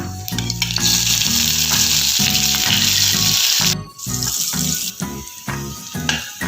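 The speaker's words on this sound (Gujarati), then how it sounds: "તેલ આપણું ગરમ થઈ જાય એટલે એમાં આપણે નાખીશું એક ચમચી જેટલું જીરું જીરું સતળી જાય પછી આપણે નાખીશું લીલા મરચાં" Cumin seeds and green chillies sizzle loudly and steadily in hot oil, with a brief dip midway before the crackling frying resumes.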